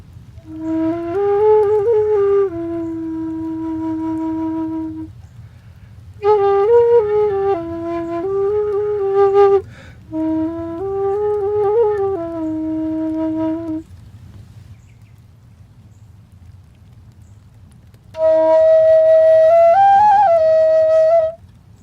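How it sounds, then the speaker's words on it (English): An Arabian flute played dry with no effects, breathy sustained tones in several separate phrases with gaps of near silence between them, loud and close over a low background hum. "It's the Arabian flute."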